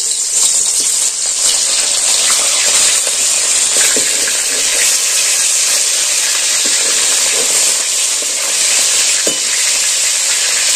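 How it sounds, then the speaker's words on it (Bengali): Mackerel fish fries in white refined oil in a kadai, a loud steady sizzle and hiss with scattered crackling pops lasting throughout, no voices. "ওই কড়াতে দিয়ে দিচ্ছি আমি সাদা রিফাইন তেল, দিয়ে আমি মাছটা ভেজে নেব"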